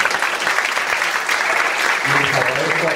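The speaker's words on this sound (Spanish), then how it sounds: "Por favor, les pido un último aplauso." Steady applause from a conference audience fills the whole stretch at even loudness, with a voice speaking over the clapping toward the end.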